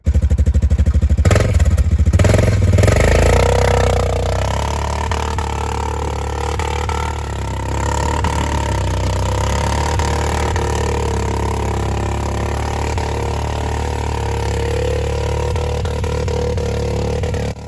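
A dirt bike engine labours up a steep mountain trail, held at its 4,500 RPM rev limiter. The loud, sustained droning comes with a few rough surges near the start.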